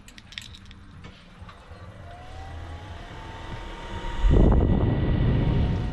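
A portable heater starts up in an RV, its low rumble building steadily before bursting into a loud, continuous jet-like roar that dominates the space.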